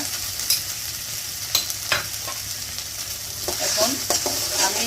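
Ginger-garlic paste and onion paste fry in a pan for an egg korma, a continuous hiss broken by sharp spoon clicks and scrapes that grow busier toward the end.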